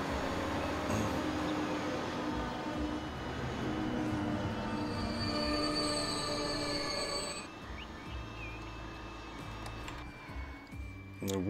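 Train in the Transport Fever game rolling along track, with wheel squeal and rail clatter running loud and steady, easing somewhat toward the end.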